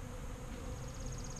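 Honeybees in a split hive on an orientation flight, a steady dense buzz of many insects droning continuously at close range with no talk.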